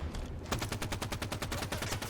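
Rapid automatic gunfire in a Halo 5 Warzone match, a steady stream of loud, evenly spaced shots over game noise, with no talking.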